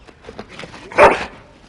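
A single sharp bark from a dog in the video game Dragon Age: Origins, close and clear above a faint background murmur.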